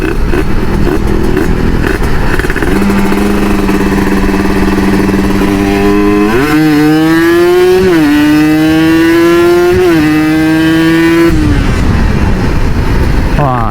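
A Kawasaki Ninja RR two-stroke motorcycle, fitted with a Moto1 ceramic 59mm block and a PWK KX85 carburetor, revs hard nearby, climbing through rising, stepped pitch sweeps in a loud continuous buzz before dropping back.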